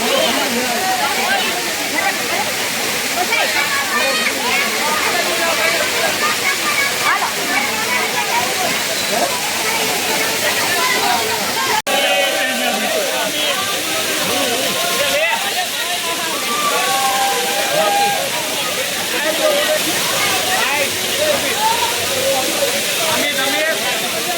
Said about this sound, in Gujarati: મસ્ત ધોધ છે અહીંયા